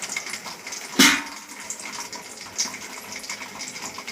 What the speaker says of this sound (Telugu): కార్న్ఫ్లోర్ని వాటర్లో కలుపుకొని వేయాలి.